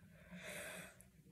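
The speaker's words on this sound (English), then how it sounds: "I'm yawning." A person yawns once, a soft, breathy exhale rising and fading over about a second, close and quiet.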